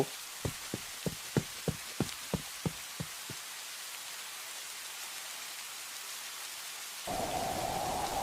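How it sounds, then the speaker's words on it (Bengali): Storm in an animated cartoon about a poor farmer caught in a Kalbaishakhi squall: about a dozen sharp, evenly spaced hits over steady rain hiss, then a loud surge of heavier rain near the end. "মা, যেমন বৃষ্টি হচ্ছে তেমন ঝড়।"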